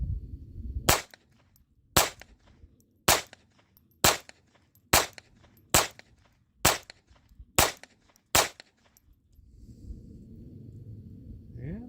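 Nine sharp, evenly spaced pistol shots from a Colt Woodsman ring out at an outdoor range, loud and close, each cracking alone with quiet gaps between, followed by a low rumble of handling noise afterward.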